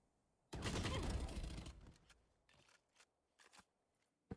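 Gunfire in the video game Valorant: a dense, loud burst of rapid shots lasting about a second, followed by a few sparser, sharper single shots and clicks, no talk over them.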